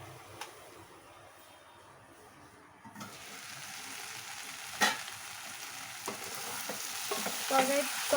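Prawns and pui leaves sautéing in a pan: a quiet stretch gives way to a building, steady sizzle, punctuated by occasional sharp clinks and scrapes of a spoon stirring the curry.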